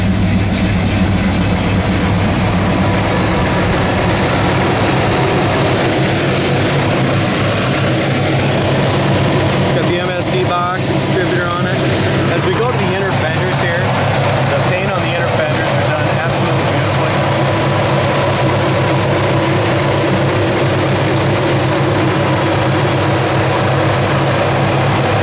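A 1970s-era Oldsmobile 442 with its big 455 V8 idles loud and close, a steady low rumble running throughout with a brief rise in revs partway through.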